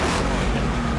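A Ford pickup truck engine revs loudly and continuously, a dense broadband roar that fills the whole moment at close range.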